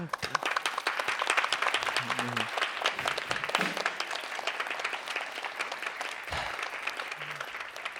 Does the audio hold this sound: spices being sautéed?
no